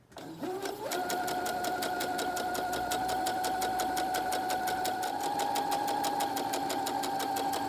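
A sewing machine running a straight stay stitch along a fabric edge while making a duster: the motor spins up, then a steady, rapid, even needle chatter continues close and alone.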